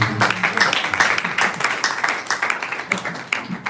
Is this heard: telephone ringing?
no